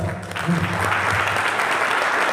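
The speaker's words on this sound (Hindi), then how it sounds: "तो आइए जोरदार ताली स्वागत करते हैं भारत सर का" Audience applause greeting a speaker at a training meeting, a steady, dense burst of clapping that holds for a couple of seconds with faint voices mixed in.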